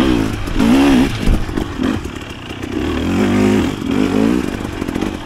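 A 2025 Husqvarna TE300 dirt bike ridden over rough terrain, its two-stroke engine loud and close, revving up and down repeatedly with clattering bumps from the rough ground.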